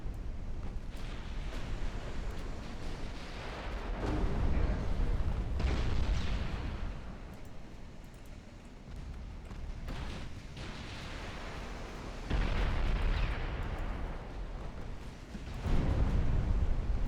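Naval battle in the game Ultimate Admiral Dreadnoughts, with repeated heavy booms and rumbling blasts from gunfire and torpedo hits rolling in waves, several loud bursts separated by quieter stretches of distant rumble.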